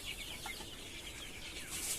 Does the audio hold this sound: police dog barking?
no